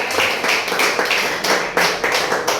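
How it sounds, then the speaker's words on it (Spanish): Congregation clapping during a church service, a short burst of rhythmic, fairly loud claps in uneven bursts close by, with no talk over it. "Denle un fuerte aplauso a nuestro Padre Celestial"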